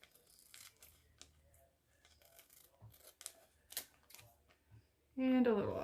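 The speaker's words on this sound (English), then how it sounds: "It might be a little too big, so I'm going to go ahead and cut some of that out" Scissors cut through a piece of plastic in a series of soft, scattered snips and rustles with quiet gaps, ending in a sudden louder burst of handling noise.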